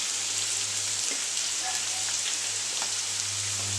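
Two finely chopped onions with green chillies and salt sautéing in a frying pan for a methi omelette: a steady, soft hiss of frying that stays even throughout, fairly faint, with a low hum underneath.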